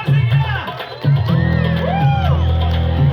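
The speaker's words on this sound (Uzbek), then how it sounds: "Ha, qarsakinglar." An audience at a live show claps and cheers, with whoops and shouted voices rising over a continuous crowd roar in short surges.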